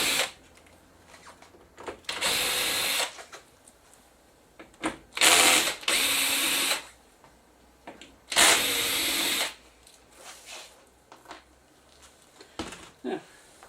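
Bursts of a powered screwdriver drawing screws from the side panel of a Samsung LE40B530P7 40-inch LCD television, three loud, close runs of a couple of seconds each, separated by quieter handling and clicks.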